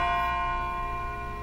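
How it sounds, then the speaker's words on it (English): A single bell in Persona 3 FES rings out with a rich, sustained metallic tone that slowly fades, loud and resonant with no voices over it. "It sounds like a bell, but where's it coming from?"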